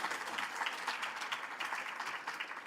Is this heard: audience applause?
yes